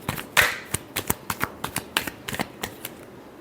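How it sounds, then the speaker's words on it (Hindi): Tarot cards being shuffled by hand, a close run of about a dozen crisp, papery taps and flutters coming at a quick, uneven rhythm with no voices. "last shuffle"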